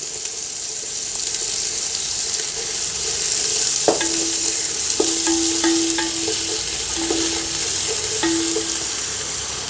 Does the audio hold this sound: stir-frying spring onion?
yes